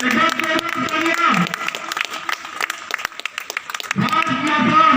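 An audience applauding at a stadium cultural programme for Poonch Link-up Day at Pritam Stadium, a loud burst of clapping that fades under amplified talk and then swells again.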